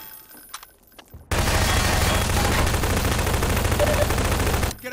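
Sustained automatic gunfire in Half-Life 2 during an ammo dump fight, starting abruptly after a quiet moment and hammering on loud and dense for over three seconds before cutting off.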